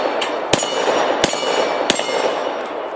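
Three sharp gunshot cracks from an SD9 VE pistol at an outdoor range, spaced roughly evenly over a steady wash of wind or background noise, with a faint metallic ring after each.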